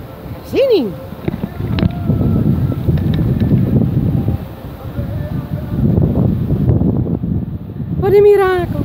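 Strong wind on a pier in Friesland buffets and roars across the microphone almost continuously, with a few brief tonal chirps standing out near the start and end.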